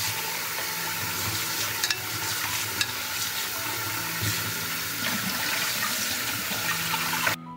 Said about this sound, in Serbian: nosim ga sada da ga isperem pod mlazom hladne vode